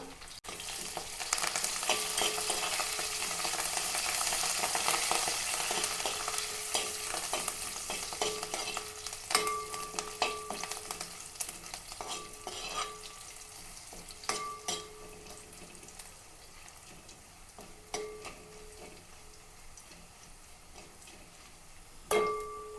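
A handful of dried red chillies and a few curry leaves fry in hot oil, giving a soft, continuous sizzle. Occasional clicks and scrapes of stirring against the pan come through, with no one talking.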